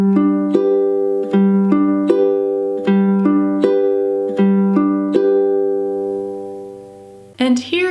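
Ukulele strumming of the pattern for a song, played at song tempo: steady, evenly spaced chord strums ringing one into the next, close and clear, ending with a brief burst of noise.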